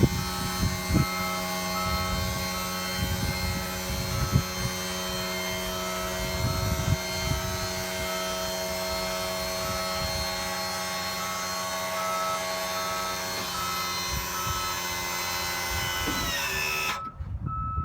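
A Braun wheelchair lift on a 2016 MCI J-4500 coach raises a passenger in a wheelchair, its steady electric motor whine and mechanical hum running for the full stretch with a few clunks, then stopping abruptly near the end.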